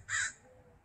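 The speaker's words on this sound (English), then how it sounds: "I think we're listening to an American crow" A single loud, harsh caw from an American crow, short and close, standing alone against a quiet outdoor background on a warm day.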